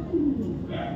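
A racing pigeon gives a single short, low coo up close, then the sound quickly fades into faint background noise.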